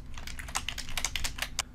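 Rapid keystrokes on a computer keyboard, including backspace presses, tap out a quick irregular burst of about a dozen crisp clicks, close and clear with no talk.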